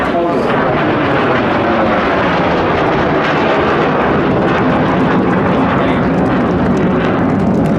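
MiG-17 jet fighter from a Polish display team performing a close flying display at Blackpool Airshow, its engine a loud, sustained roar that sweeps across the whole stretch with a shifting pitch as it passes near.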